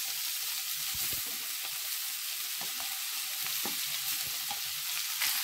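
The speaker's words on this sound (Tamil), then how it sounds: "இப்போ இது நல்லா அடி பிடிக்காத மாதிரி நல்லா கிளறி விட்டுக்கோங்க." Boiled cabbage and chana dal sizzle in a frying pan for muttaikose kootu, a steady hiss of frying under scattered stirring scrapes and soft knocks of a spoon.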